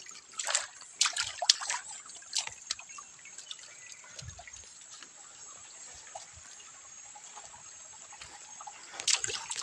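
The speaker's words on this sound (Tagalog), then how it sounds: "Maliit na ilog mga idol or sapa." A small creek runs over stones, a faint, close trickle with scattered drips and light splashes, rising briefly in a few spots.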